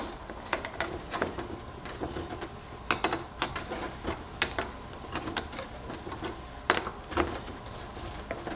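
Metal fittings on a Radium Engineering fuel surge tank are tightened with a ratcheting tool, giving irregular close clicks and taps over several seconds with no talk.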